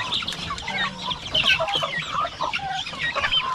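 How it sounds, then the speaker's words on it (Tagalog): A flock of farm chickens clucks busily while being fed rice bran, many overlapping close calls forming a continuous, lively chatter with no talking. "Yung mga manok natin, binigyan na sila ng tahop."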